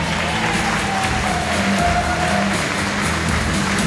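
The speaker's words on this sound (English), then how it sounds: "So let's give them a big round of applause, ladies and gentlemen." Wedding guests in a reception hall at the Jacob Henry Mansion in Joliet, Illinois clap and cheer for the bridal party, a loud, dense roar of applause with crowd noise and music mixed in underneath.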